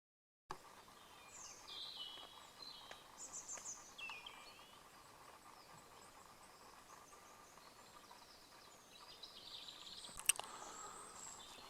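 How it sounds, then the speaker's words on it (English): Faint morning birdsong at a wild camping spot in Scotland: scattered high chirps and tweets come and go over a quiet outdoor hush, with insects buzzing softly in the background. "Can you hear the birds tweeting away?"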